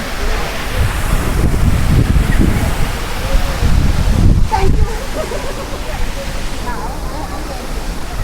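Spray and rushing water at Athirappilly Falls make a steady, loud broadband roar with gusty wind buffeting the microphone and a few faint voices mixed in.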